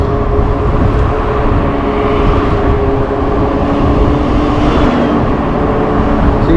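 Steady, loud road noise while riding a modded Super73 e-bike at about 30 mph on a busy road, with constant wind rush and passing car traffic forming a continuous roar with no talking.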